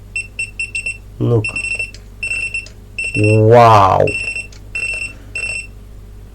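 A KUAIQU 30V 10A bench power supply gives repeated high electronic beeps in short bursts, steady and close, with someone speaking briefly twice between them.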